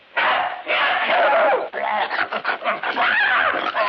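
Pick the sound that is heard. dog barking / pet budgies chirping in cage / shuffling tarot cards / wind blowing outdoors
dog barking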